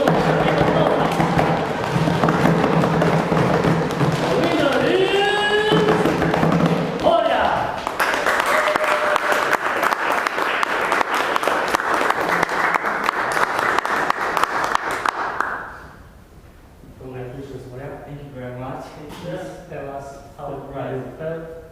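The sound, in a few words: audience cheering and applause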